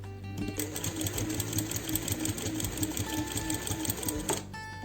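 A sewing machine runs steadily, sewing a topstitch half a centimetre from the seam that joins two pieces of fabric. Its rapid needle chatter is close and continuous for several seconds before it stops.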